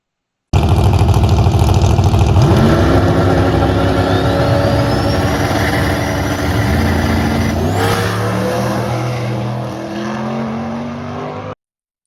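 A drag racing car loud and close throughout a test pass at US131 Motorsports Park, engine rising steadily in pitch as it accelerates down the strip, a brief drop like a gear shift, then climbing again before cutting off.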